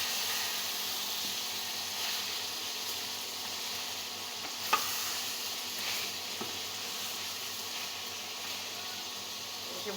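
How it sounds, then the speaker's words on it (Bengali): A pan of food frying in hot oil gives a steady, even sizzle and hiss at moderate loudness, with a faint clink partway through and no talking. "এটা এখন ভাজবো। এটা লাল করে নেবো"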